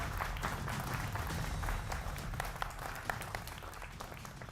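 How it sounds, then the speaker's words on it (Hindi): A studio audience applauds the guests of a televised political debate show, steady dense clapping filling the room for several seconds with no talk over it. "जोरदार तालियां हमारे तमाम मेहमानों के लिए।"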